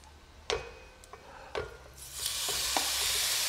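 Meat for Egyptian-style okra dropped into a hot pan, a few clinks and stirring taps first, then a loud, sustained sizzle swelling up and holding steady, close and without voices.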